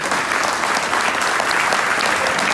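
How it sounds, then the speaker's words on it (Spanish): Dense, loud applause from a crowd at a Buenos Aires gathering marking the 50th anniversary of the Trelew massacre, clapping in a steady roar that goes on for the whole stretch. "le pido un enorme abrazo y aplauso al gallego Fernández Palmeiro"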